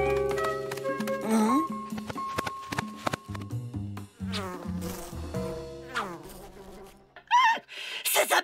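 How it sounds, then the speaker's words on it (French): Cartoon bees trapped inside mail sacks give off a busy, wavering buzz with shifting pitches, joined by scattered sound effects and a few squeaky rising tones, with no speech. "Ces abeilles se sont enfermées dans ces sacs."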